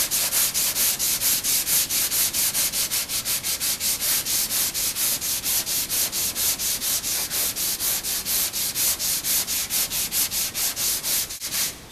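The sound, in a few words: sanding body filler glaze with 80 grit sandpaper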